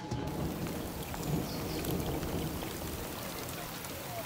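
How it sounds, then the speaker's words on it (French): Heavy rain pours down steadily outdoors in a business district, a dense, continuous hiss with no break, loud and close, with faint distant sounds beneath. "Pour son premier jour, la pluie a fait son apparition."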